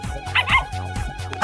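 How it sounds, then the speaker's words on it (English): A cartoon puppy gives a quick series of about three high, yappy barks with whimpering tones, close and lively, over a faint repeating low musical backing. "Oh, what an energetic pooch."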